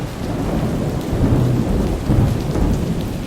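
Steady rain hisses throughout with low rumbling thunder rolling underneath, swelling twice; no voices.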